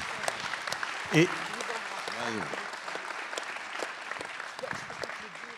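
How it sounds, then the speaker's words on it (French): Audience applause at a municipal New Year's greetings ceremony in Yerres, France, honoring the children's municipal council, a steady spread of clapping filling the room while voices speak over it. "Vraiment, on peut les applaudir"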